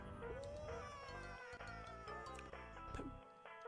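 A cat meows in a video game, a faint, drawn-out wail over layered, buzzy game music and effects.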